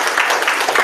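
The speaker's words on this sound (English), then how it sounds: "we could just give you a round of applause for coming out tonight" Brief burst of audience applause at a school board meeting, a steady wash of clapping from many hands heard alone.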